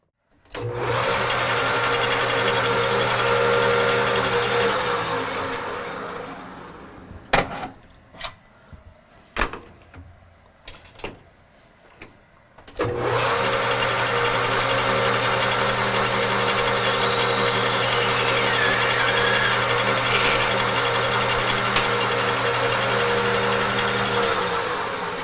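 Metal lathe facing the end of a workpiece, a steady machine hum with cutting noise that drops away to scattered clanks and taps, then resumes as a continuous drone with a thin high squeal near the tool.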